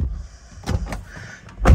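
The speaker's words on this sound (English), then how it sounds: "You have to give these doors quite a push" Door of a Toyota Hilux 3.0 D4-D Invincible double cab pickup pushed shut, giving a firm sealed thunk near the end after a couple of softer knocks and cabin rustling, close and fairly loud.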